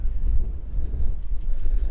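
Strong wind in Stockholm batters the microphone in a heavy, booming low roar that surges and dips without pause.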